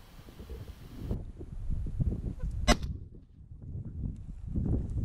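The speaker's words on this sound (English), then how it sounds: "So here I see a goose trying to make it back to the water." A goose near water during a Colorado waterfowl hunt: low honking calls repeat irregularly at moderate distance, with one sharp sudden crack partway through and outdoor background between calls.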